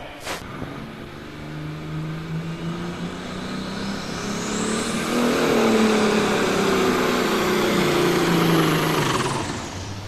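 A 1456 IH Pro Stock tractor at an indoor tractor pull, its engine droning loud and steady, rising in pitch as it works down the track, then easing off near the end.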